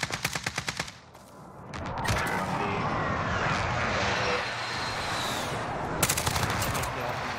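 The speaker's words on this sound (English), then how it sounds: "Enemy precision airstrike." Enemy precision airstrike in Modern Warfare Search and Destroy: rapid bursts of gunfire, then a loud roaring aircraft pass sweeping overhead, followed by more staccato shots, with brief voices underneath.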